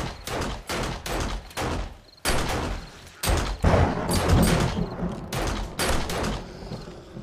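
Bursts of gunfire from the zombie survival game 7 Days to Die, several spaced volleys of loud close shots with sharp slams, running steadily with no talk.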